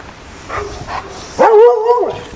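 A dog at a hillside home in Kakkadampoyil gives one short, strained yelp-like cry lasting under a second, fairly close and loud, over faint outdoor background noise.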